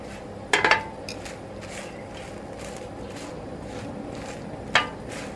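Tomatillo, onion and garlic roast on a griddle under a soft steady hiss, with a sharp metallic scrape and clatter near the start and another near the end as they are turned.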